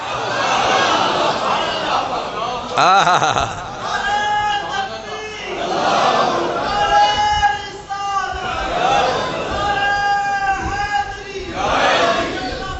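A large congregation at a Friday sermon shouting religious slogans in unison, loud rising call-and-response chants in repeated bursts.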